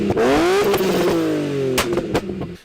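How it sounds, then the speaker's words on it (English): A modified car engine revs hard in an empty mall parking lot, its pitch sweeping down between throttle blips, while sharp cracks and pops from exhaust backfires punctuate it several times, loud and close. "it's just me revving it in an abandoned mall parking lot to shoot fire out the exhaust"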